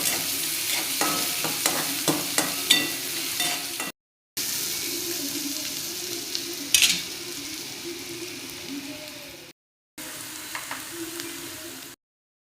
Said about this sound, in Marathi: चांगला परतवून घेते